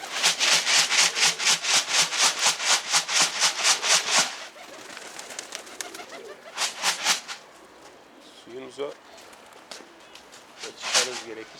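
Pigeons in a backyard coop make a run of rapid, rhythmic flapping and rustling bursts, followed by softer coos and scattered wing sounds, with people talking nearby.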